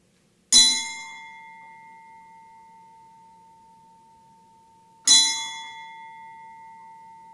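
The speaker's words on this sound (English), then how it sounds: "ringing the bell 3 times" A graduation bell at a Georgia State Patrol trooper school ceremony struck twice, several seconds apart, each bright clang ringing on in a long, steady hum that fades slowly.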